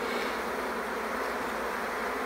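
Honeybees in an orphaned, queenless colony give a steady, continuous droning buzz, close and even in level throughout with no pauses.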